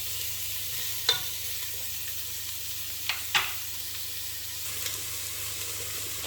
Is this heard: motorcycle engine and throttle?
no